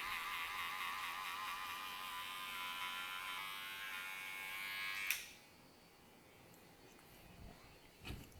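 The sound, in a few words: electric hair clipper trimming hair for an undercut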